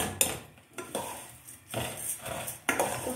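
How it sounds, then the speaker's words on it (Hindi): A metal spoon scrapes and clanks against a pan while a sweet dish fries in ghee, in four distinct strokes with a light sizzle underneath. "घी में फ्राई करें"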